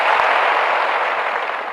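An audience claps steadily and evenly while names are read out at a school or community gathering, with no voices audible over the applause.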